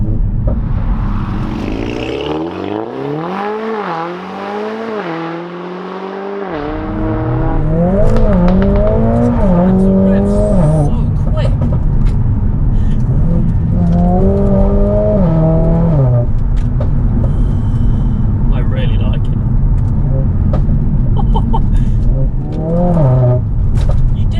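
A Stage 2 tuned Mercedes-AMG A45 S engine of about 500 bhp revs hard through several rising and falling sweeps, then settles into a loud, rumbling run with occasional further revs.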